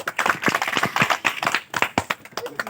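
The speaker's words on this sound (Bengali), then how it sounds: "সবাই একটা করতালি হয়ে যাক।" Scattered clapping rings out for the winner of an egg-and-rice eating contest, a small group of hands beating unevenly with distinct sharp claps rather than a smooth roar, up close and lively.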